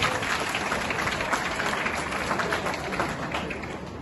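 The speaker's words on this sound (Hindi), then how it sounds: "सर जोरदार इसके नाम पे ताली बजाओ" Audience applause for a named person at a school or college talk, dense sustained clapping filling the room at steady loudness throughout.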